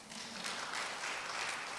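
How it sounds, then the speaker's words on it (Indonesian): A church congregation at a Sunday service claps together in a dense, fairly faint burst of applause that lasts a couple of seconds. "Yang setuju tepuk tangan bagi Tuhan"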